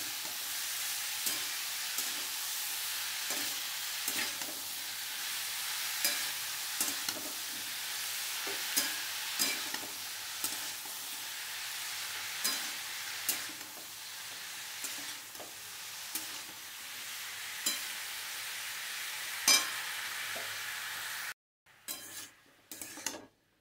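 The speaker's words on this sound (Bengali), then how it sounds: "ভালো করে মশলার সাথে লাউটা মিশিয়ে নিয়েছি।" Chopped bottle gourd is stirred with spices in a hot pan, a steady sizzle broken by regular scraping strokes of a spoon, ending with a brief clatter.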